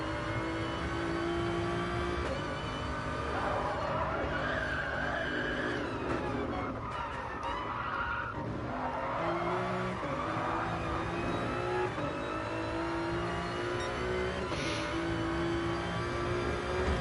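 Toyota Supra race cars roaring through the Dragon Trail circuit in a racing video game, engines droning and revving continuously with tyre squeal and cars passing close by.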